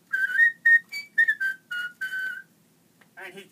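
Someone whistles a lively tune in quick, distinct notes, near and bright, then a voice speaks briefly at the end.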